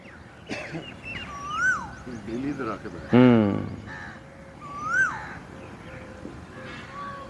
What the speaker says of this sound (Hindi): इस कोयल की आवाज को सुनिए